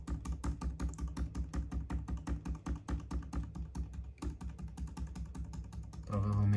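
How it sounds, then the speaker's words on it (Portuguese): Computer keys are tapped in a fast, steady run of sharp clicks during a BIOS update on a B760M AORUS Elite AX DDR4 motherboard, with a low hum underneath and a louder tone cutting in at the end. "já tô clicando Delete"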